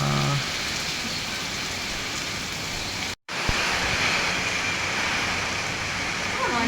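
Heavy rain pours steadily with storm wind in a dense, constant wash of hiss, broken by a momentary dropout partway through.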